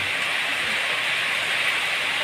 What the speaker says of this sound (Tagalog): Tuloy-tuloy pa rin yung pagulan at pag ano, paglakas ng hangin